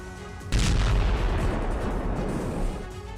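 An M142 HIMARS rocket artillery launcher fires, giving a single abrupt boom followed by a heavy, roaring rumble. The rumble sustains for about two seconds and then fades.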